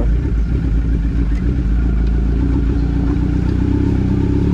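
A motorcycle is ridden on a road, its engine droning loud and steady throughout with a rumbling low hum and faint rattling, close to the rider.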